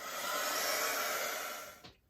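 A heat tool blows steadily onto uncoated cardstock for about two seconds, a broad even whoosh close up that cuts off abruptly at the end.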